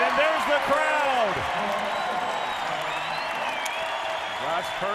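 A basketball arena crowd roars at a Gonzaga game after a made three-pointer, a loud, sustained wash of cheering and whistles beneath a commentator's excited voice, with sneaker squeaks cutting through.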